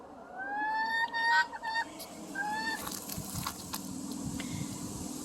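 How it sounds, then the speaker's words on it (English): Chickens cluck and squawk in a burst of rising calls, nearby, followed by scattered rustling and outdoor background noise. "Those are my chickens."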